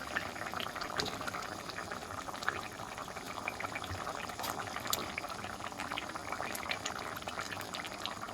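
A pan of Assamese fish curry with water just added, bubbling and boiling in a low continuous simmer with faint liquid pops.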